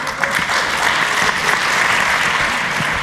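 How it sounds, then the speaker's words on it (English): Steady, dense clapping from a seated audience at an entrepreneurship competition launch, loud and continuous for the whole stretch, with no speech over it. "Yeah, give these competitors a round of applause"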